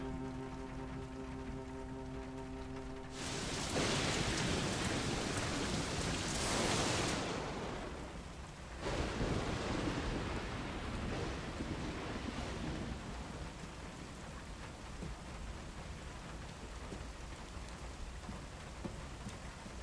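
Heavy rain pours down in loud rushing bursts that surge and fade, with no distinct thunder.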